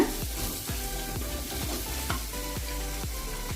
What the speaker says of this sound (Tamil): நம்ம இதை நல்லா மிக்ஸ் பண்ணிடுங்க.